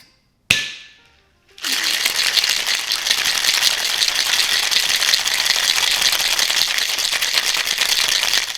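A cocktail shaker is shaken hard, a fast, loud, continuous rattle of ice after a sharp knock and a short pause, close up, with no talking.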